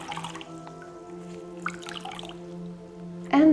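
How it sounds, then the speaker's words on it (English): A small wet face towel is wrung out over warm water, giving a close, quiet trickle and scattered drips that fade into faint splashes, with no voices. "put it in the warm water, and wring it out."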